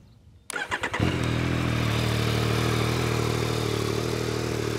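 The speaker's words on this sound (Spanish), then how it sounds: "Voy a arrancar en un momento la moto para que la escuchéis" A Yamaha XSR 900 motorcycle engine is cranked and catches after a brief starter whir, then settles into a steady, loud idle heard up close with no talk.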